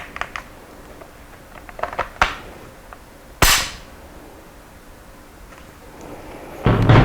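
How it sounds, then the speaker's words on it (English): A military-surplus bolt-action rifle is worked by hand, giving a few sharp, close metallic clicks and snaps from the bolt, trigger and safety, spaced apart with quiet handling noise between. "Magazine follower holds open as it should. Trigger works. Cocks, safety, works."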